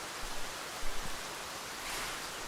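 Rain pouring in the video game Escape From Tarkov, a broad continuous wash of noise with a brief low thump partway through, steady and unaccompanied by talk.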